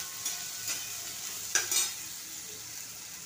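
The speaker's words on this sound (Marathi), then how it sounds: "आता हा कांदा चांगला भाजून घ्यायचा. 5 मिनटं भाजून द्यायचा." Onion frying in a pan hisses steadily up close, broken by a few soft stirring scrapes around the middle.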